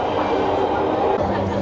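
Inside a moving South Sumatra LRT light rail car built by PT Inka of Madiun, a steady, loud rumble and rolling drone continues without a break.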